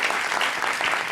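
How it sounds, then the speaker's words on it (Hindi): Dense, steady studio audience applause on a Pakistani TV talk show, loud and continuous throughout the brief moment. "तालियां"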